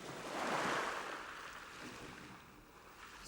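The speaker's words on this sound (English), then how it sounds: "We wait until a big wave breaks, and then we race across before the next big wave comes in." Large waves crash in an animated cartoon, a broad rushing roar that swells early and then recedes into a steady wash of surf, with no speech.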